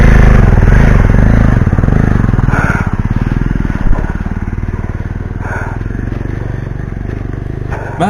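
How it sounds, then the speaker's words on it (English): A motorcycle engine labours on a rough dirt road near Coorg and fails to pull, its low rumbling drone wavering under rattles and clatter with a bump partway through, while a voice talks over the ride. "Here comes the problem. The bike is not pulling."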